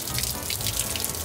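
Water drains out of a boat cockpit through a drain hole after being filled with a hose, a steady continuous trickling gush close by with no talk.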